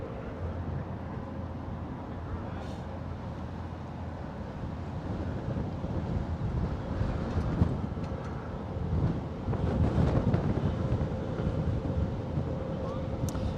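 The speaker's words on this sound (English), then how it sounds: "It's pretty windy out here today." Strong wind gusting outdoors near the Brooklyn Bridge and DUMBO waterfront in Lower Manhattan, a loud continuous rumble buffeting the microphone that builds in the later seconds, with people talking faintly underneath.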